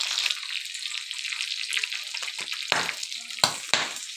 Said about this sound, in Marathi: मिरची गरम झाली की तडकीने अशी बाहेर पडते।